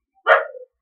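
A dog gives one short, close bark that ends in a brief tail, loud against silence.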